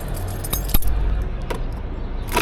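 Keys jangle and clink close by, a few sharp metallic rattles over a low background rumble beside a delivery motorcycle that has just been washed.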